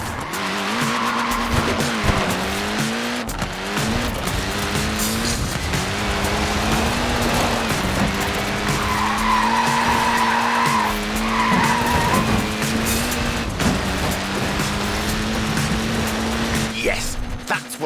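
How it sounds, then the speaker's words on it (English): A Mini's small tyres squeal and skid in Forza Horizon 4, a long wavering screech over a revving engine note, loud and continuous with brief gear-change dips. "Look at that, laying down some rubber there."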